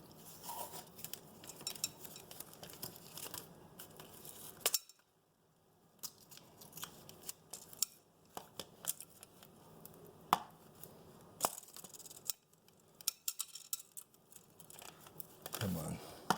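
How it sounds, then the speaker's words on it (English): Masking tape is torn off with short ripping sounds and pressed onto tile for a backsplash install, through crinkles, taps and brief pauses. "I'm going to put me a piece of tape on here"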